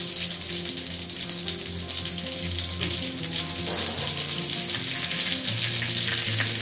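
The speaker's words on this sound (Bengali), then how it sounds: "মাছের মাথাটা ভাজবো দিয়ে দিলাম একটু লবণ" Rohu fish head, salted, frying in hot oil: a steady, loud broadband sizzle runs throughout, with faint tonal hum beneath and no voices.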